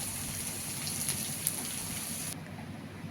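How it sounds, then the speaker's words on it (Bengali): Gatte, gram-flour dumplings, sizzling as they fry in hot oil until reddish, a steady dense hiss and crackle running close and even throughout. "তো দেখো এখন আমি একটু লাল লাল করে ভেজে নেব এগুলো"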